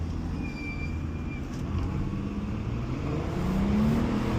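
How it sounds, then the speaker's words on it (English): A car engine revs and drones steadily at moderate volume while the driver attempts a burnout on a hairpin turn, with the tone rising slightly toward the end. "See if it'll do a burnout."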